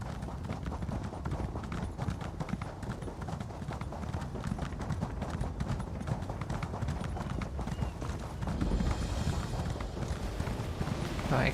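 Horse hooves gallop in The Elder Scrolls Online, a fast, continuous clip-clop rhythm that runs steady and fairly close with a faint whinny near the end.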